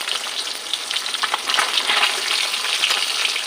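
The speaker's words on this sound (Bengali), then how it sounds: "এবার ওই তেলেই কালো জিরে ফোড়ন দিয়ে দিলাম।" Nigella seeds temper in hot oil in a pan, which gives off a steady, dense sizzle and crackle heard up close, continuous throughout with no voices.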